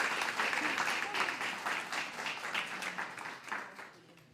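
Applause from an audience at a guide dog graduation ceremony, a steady patter of many hands clapping at moderate distance that gradually fades away over a few seconds, with no talk over it.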